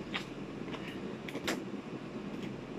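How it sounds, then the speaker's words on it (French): A blower runs as a steady, broad background roar, with a few faint creaks and clicks rising above it and no speech. "Désolée pour le bruit de la soufflerie"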